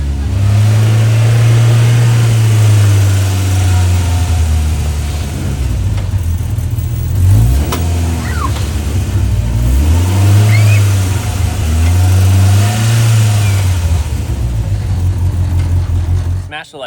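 A Polaris RZR Pro R 4 side-by-side driving close by, its engine droning loudly and rising and falling in pitch through several revs, with people talking over it.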